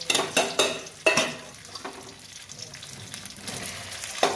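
A boiled potato is fried in a pan, with several sharp spatula scrapes and clinks against the metal over a softer sizzle that fades between strokes.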